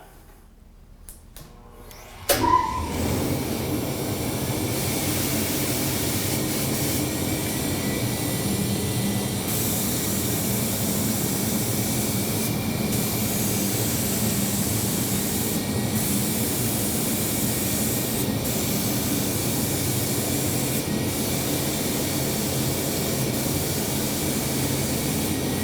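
A loud, steady turbine roar from a Fuji Spray D6 HVLP turbine sprayer kicks in after a brief quiet moment and holds evenly, a constant airy hiss of continuous spraying.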